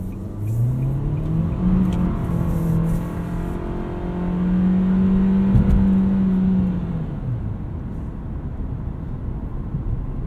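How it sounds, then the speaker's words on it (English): A 2020 Nissan Kicks SR with a CVT whirs under hard acceleration, its steady engine drone holding a long, even rising note, then dropping away while the car keeps cruising. "You definitely get a little bit of CVT whir when you're flooring it"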